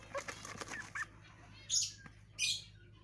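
Golden bantam chickens flap and scuffle close by, followed by two short, bright bird calls spaced about a second apart.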